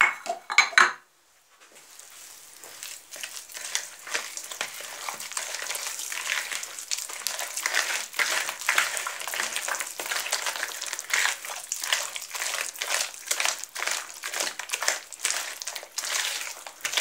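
Potato is mashed and kneaded by hand into a soft dough in a bowl, giving a continuous run of wet squishing, squelching and crinkly contact sounds after a brief clatter of dishes at the start.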